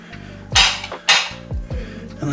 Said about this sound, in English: Again, just give it another chop.